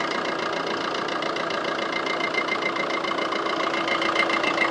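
A Maruti Suzuki Ciaz VDI+ diesel car engine idles steadily, its even, slightly knocking diesel clatter heard up close and continuous, with no voices over it.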